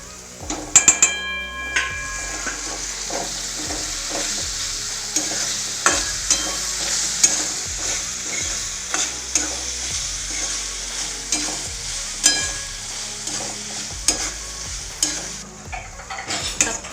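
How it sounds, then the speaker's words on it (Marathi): Onions, potatoes and peanuts fry in oil with turmeric for a leftover-chapati breakfast, a steady close sizzle punctuated by repeated rhythmic scrapes and knocks of a spatula against the pan. "आपला कांदा बटाटे शेंगदाणे तेलामध्ये चांगले परतून झालेलं आहे यामध्ये आता अर्धा चमचा हळद टाकून घ्यायची थोडंसं हलवून घेऊया"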